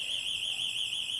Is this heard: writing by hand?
no